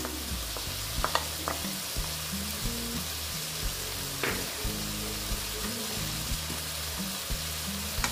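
Chana dal lentils fry in a pan for a soybean and lentil dish, giving a steady, close sizzle with faint stirring and scraping throughout.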